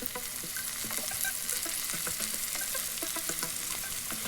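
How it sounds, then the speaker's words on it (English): Cabbage and caramelized onion fry in a pan with a steady, close crackling sizzle, broken by scattered clicks and pops of stirring throughout. "After the onion caramelizes, then put all the cabbage down into the pan."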